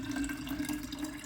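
Water streams from a Philips ADD5962BK/79 hydration station into a jug, a brief steady pour with a faint hum underneath and no speech.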